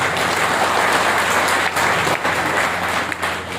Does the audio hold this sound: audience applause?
yes